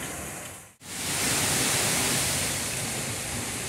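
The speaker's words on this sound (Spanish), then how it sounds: "conforme nos acercamos más a la cascada" Misol Ha waterfall in Chiapas, a steady, loud roar of falling water that briefly drops out near the start and then rushes back as a dense, constant close-up wash with no voices.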